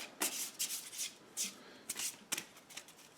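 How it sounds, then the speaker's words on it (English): A deck of Eldritch Horror game cards being shuffled by hand at close range, quick riffling bursts in an irregular rhythm, fairly quiet. "So I will just shuffle this"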